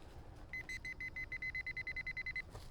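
A metal detector beeps in a rapid, steady series of short high-pitched tones over low outdoor rumble, then stops, signalling a find among tree roots.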